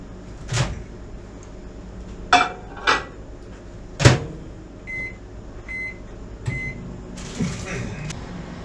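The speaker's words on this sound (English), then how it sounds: "now I'm going to slap this in the nuclear oven, i.e. microwave, for about 15 seconds to heat it on up" A tortilla heated for about 15 seconds in a home microwave oven: a steady low hum with several sharp clunks of the door and handling, a few short beeps, and talk mixed in.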